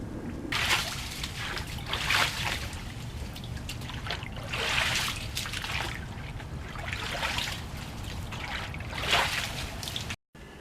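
Pond water trickles and splashes in a steady background while leaves are scooped out by hand, with louder sloshing swells every couple of seconds and no talk.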